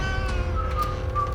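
A cat meows in a film scene, a drawn-out wavering cry held over a steady low background hum, close and clear for just over a second.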